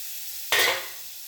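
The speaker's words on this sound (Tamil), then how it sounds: "இப்போ தாளிக்கிறதுக்கு கொஞ்சோண்டு வெண்ணெய்" Butter and oil hit a hot pan for tempering channa masala, a sudden sharp sizzle that bursts out and then fades into a softer hiss, heard alone without talk.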